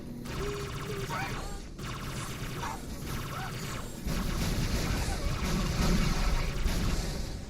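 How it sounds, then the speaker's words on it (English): Dense, rumbling video game combat with repeated explosion bursts and mechanical clatter, swelling louder in the second half, with brief speech mixed in. "So many explosions"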